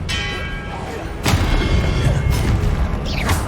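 A Confringo blast spell in the Hogwarts Legacy video game on PS5, going off as a sudden loud explosion. Further booming hits follow roughly once a second over a steady rumbling background.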